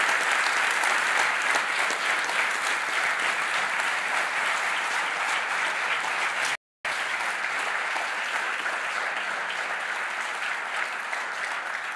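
Sustained audience applause for Professor Alister McGrath following a talk on C. S. Lewis, dense even clapping from a large crowd that continues for several seconds after a momentary dropout and fades slightly at the end.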